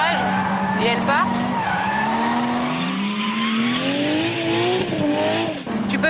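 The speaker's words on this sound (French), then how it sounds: "on met un gros coup de frein à main à l'entrée du virage et elle part" A drift car is flicked sideways with a hard handbrake pull at a corner entry, its engine droning with rising pitch while tires squeal and skid. Someone talks over the sound.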